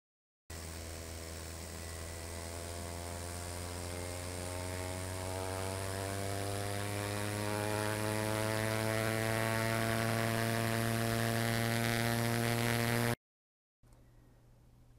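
Synthesized vehicle engine noise generated in real time, a steady harmonic drone whose pitch climbs smoothly as the simulated speed rises, loud and continuous, then cut off before a brief quieter idle-like tone at the end.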